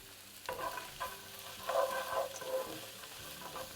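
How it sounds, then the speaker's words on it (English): Onions, ginger and about twenty cashew nuts cook in a pan over medium heat, giving a soft steady sizzle with occasional scraping stirs, fairly quiet and close, with no talking. "I'm just going to continue cooking this on medium heat for 5 minutes until they kind of start to soften up and start getting some color"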